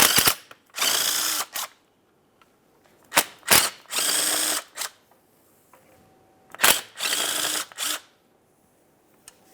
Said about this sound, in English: remove the 10mm nut and stud